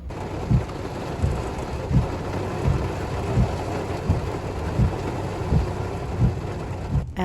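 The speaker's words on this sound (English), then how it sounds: "As you can see, pouring freaking rain on our way out of Chicago" Heavy rain pours down during a drive out of Chicago, a steady dense roar with regular low thuds repeating through it, the noise of a car moving through a storm.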